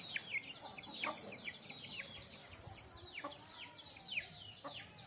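Hens in a breeding pen cluck and chirp in scattered short calls, faint and somewhat distant, with a few louder notes standing out over quiet background noise.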